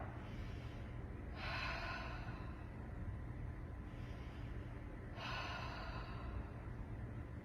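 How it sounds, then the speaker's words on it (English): Deep yoga breathing heard as two long, airy breaths several seconds apart, each a soft, close, whooshing rush of air over a faint steady background hum. "Few inhales, deep inhales, and exhales, letting all that air out."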